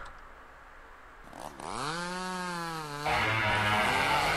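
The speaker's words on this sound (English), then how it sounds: "That sounds like either a buzzsaw or a chainsaw." A chainsaw or buzzsaw starts up in the Mad Father video game: a low mechanical rumble rises into a whining, revving drone, then shifts to a harsher, louder grinding roar.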